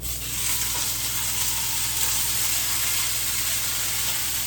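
Brussels sprouts and peas hit a heated pot with a little oil, giving a loud, continuous, dense sizzle and hiss that runs unbroken from start to finish, with no talking.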